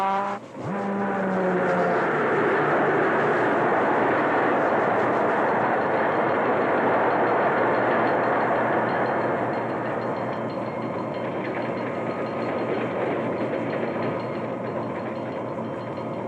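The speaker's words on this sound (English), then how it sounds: "Now Mr. Schroeder closes the throttle to slow down the train, for a sharp curve is just ahead." A passenger train runs on rails with a continuous rumbling roar and rhythmic wheel clatter, preceded by a brief horn-like tone at the start, then gradually easing in level.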